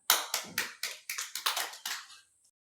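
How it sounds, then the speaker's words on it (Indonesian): Children in a classroom clap their hands in a quick rhythmic burst, about eight sharp, close claps in a row before falling silent. "Tepuk tangan dulu. 1, 2, 3. Tepuk tangan."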